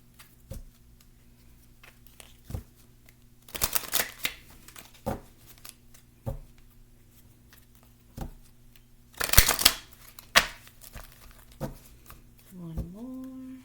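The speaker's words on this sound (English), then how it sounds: "Let's go ahead and shuffle the chakras for this person as well." Chakra cards being shuffled during a tarot-style reading, scattered soft riffles and taps with a few louder bursts of card flutter, close and quiet, over a low steady hum.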